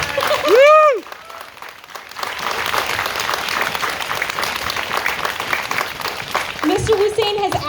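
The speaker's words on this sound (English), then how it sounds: "Yeah, we can clap." People clap for the new owner of Concord Martial Arts, a steady round of applause in a room following a brief vocal exclamation, with a voice rising again near the end.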